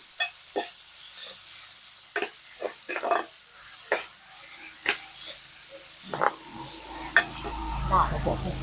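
Phak kut fern is stir-fried with nham fermented pork in a pan for a northern Thai breakfast, giving a series of scraping stirs and clacks with light sizzling that grows busier toward the end, quiet and close.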